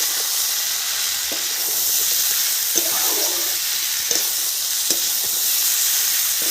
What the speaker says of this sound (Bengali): খুব সুন্দর করে একসাথে ভেজে নিয়েছি।